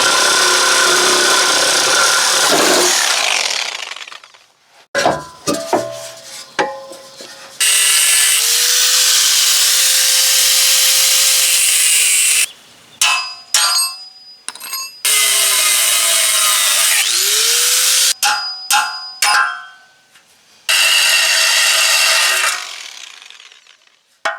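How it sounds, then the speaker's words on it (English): A welded car muffler on a four-cylinder car being cut off with a power cutting tool, loud harsh grinding and whining in repeated bursts broken by short pauses, with the pitch shifting as the blade works through the metal. "I'm gonna go ahead and I'm gonna cut off the other welded muffler"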